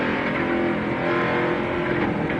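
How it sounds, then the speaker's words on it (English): A race car's engine at the 2001 CVS Pharmacy 200 holds a loud, continuous roar as the driver feathers the throttle while boxed in, with no clear pauses. "You can hear him feathering the throttle because he couldn't go nowhere, and Steve Park jumps on the throttle"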